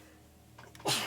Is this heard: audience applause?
no